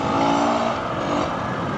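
A 2022 Husqvarna FE 350s dirt bike engine revving, a sustained buzzy drone that rises and falls slightly over a short stretch, close and fairly loud with no talking.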